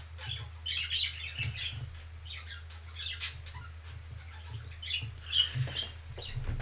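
Many birds chirp and tweet busily in overlapping calls against a steady low hum, with no voices present.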